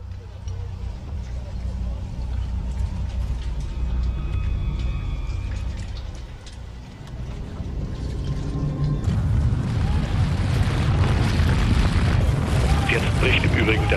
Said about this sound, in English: In diesem Moment bricht der nördliche Turm des World Trade Centers zusammen